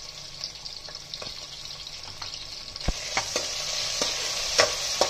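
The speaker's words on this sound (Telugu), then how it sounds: "ఉల్లిపాయ ముక్కల్ని వేసేసి లైట్ గోల్డెన్ కలర్ వచ్చేదాకా వేపుకుందామండి" Onions, curry leaves, dried red chillies and green chillies frying in oil in a pan for a spicy chicken roast, a steady close sizzle with scattered sharp crackles and pops growing louder partway through, no voices.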